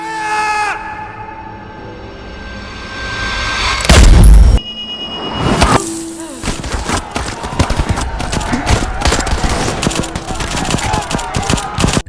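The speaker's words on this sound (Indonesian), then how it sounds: "para demonstran dan para pengunjung festival dihujani tembakan yang begitu sangat brutal" Loud volleys of gunfire and rapid machine-gun bursts rake a crowd of demonstrators and festival-goers during a colonial British massacre in Punjab, with a heavy boom near four seconds and screams beneath the continuous shooting.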